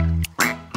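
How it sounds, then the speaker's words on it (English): Mother duck quacking in a children's bath-time sing-along, two loud nasal quacks separated by a short pause, then a third beginning, close and clear with no talk. "See the mama duck."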